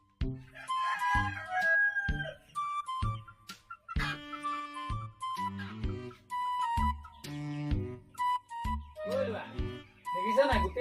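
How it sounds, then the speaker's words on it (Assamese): Farmyard chickens cluck and call in short, repeated bursts with a rooster crowing among them, fairly near and separated by brief pauses. "দেখিছা নাই গোটেই মুৰ্গীগাল আছে"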